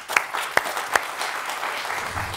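A studio audience at a comedy game show breaks into applause, a few sharp claps at first that quickly grow into steady, fairly close clapping.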